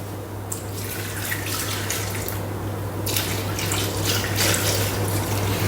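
Milk poured into a Thermomix while making mac and cheese, a steady liquid pouring sound that runs continuously and grows slightly louder, over a low electrical hum.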